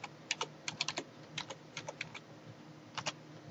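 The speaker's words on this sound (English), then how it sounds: "I'm going to type in my username" Fingers tap out a username on a computer keyboard, with quiet close keystrokes arriving in uneven clusters and brief pauses between them.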